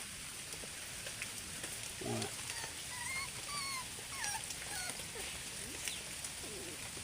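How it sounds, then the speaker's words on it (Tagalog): Faint, high whimpers and thin squeaks from a newborn puppy sheltering under a roof come and go over a steady hiss of typhoon rain on the roof. "May tuta pala rito."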